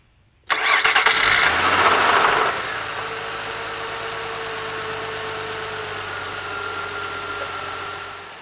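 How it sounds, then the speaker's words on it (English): A Nissan Maxima engine cranks and fires up right after an oil change, a loud burst of starter and catch settling within two seconds into a steady, close idle that runs on alone. "let's go ahead and start that engine up"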